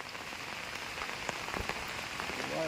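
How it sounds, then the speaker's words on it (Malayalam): Heavy rain pours down over a small village stream, a dense, even hiss of drops striking the surface that stays loud and constant throughout, with no voices. "നല്ല മഴയുണ്ട്"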